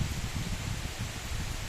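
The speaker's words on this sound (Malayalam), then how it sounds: "നല്ല മഴ പെയ്യുന്നുണ്ട്." Steady rain falls in Konthambra, Payam near Iritty, Kerala, an even broadband wash of drops that stays constant and moderately quiet, with no voices.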